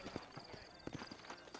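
Horse hooves clip-clop at a trotting pace in the Red Dead Redemption video game, an uneven run of soft thuds heard faintly and alone against a low background.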